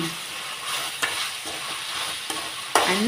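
Onions sizzling as they are stirred in a pan, a short close stretch of steady frying with a few sharp scrapes of the spoon, the last one loudest, no voices.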